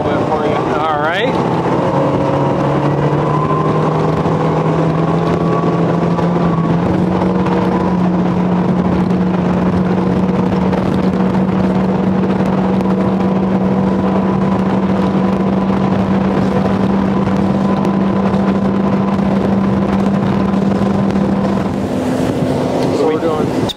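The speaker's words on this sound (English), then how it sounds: "we're cruising about 30 miles an hour, nice mid-range cruising speed for this boat, and Brian took the throttle" A Lund Pro-V 2175 fishing boat with a 400 hp Mercury Verado V10 outboard drones steadily at cruising speed on open water, a loud sustained engine hum with the pitch rising early on, wind and water noise underneath.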